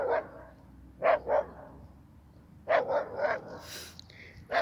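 A dog barking in a small outdoor field studio, with several loud, close barks coming in short bursts of one to three separated by pauses.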